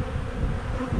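Honeybees swarm over a hive frame holding honey, larvae and eggs, making a thick, steady drone that stays close and even throughout.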